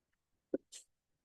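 A single close sneeze: a sharp voiced burst followed by a breathy hiss, then silence.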